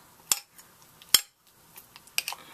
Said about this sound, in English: mash it up